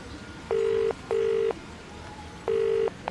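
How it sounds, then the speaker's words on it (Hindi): A phone dialing out for a call gives three steady beeping tones, each under half a second and separated by short gaps, heard clearly over faint background noise. "उसने अपने फोन से भैया जी को फोन मिलाया।"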